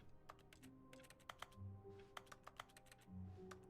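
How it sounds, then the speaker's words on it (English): Keyboard keys click in The Stanley Parable Ultra Deluxe, a quick, irregular run of sharp taps at low volume with short pauses between. "Apparently, hitting A makes a keyboard clicky sound."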